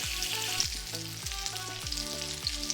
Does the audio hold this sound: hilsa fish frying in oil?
yes